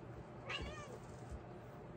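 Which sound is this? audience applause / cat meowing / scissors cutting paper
cat meowing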